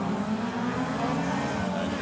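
SL-H 1600cc race cars tearing along a Super Cross track, their engines blending into a dense, steady roar that holds for the full two seconds with no voices over it.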